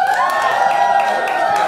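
An audience applauds and cheers for a Thai singer at a live show, a steady, loud crowd roar with a sustained tone running through it from start to finish.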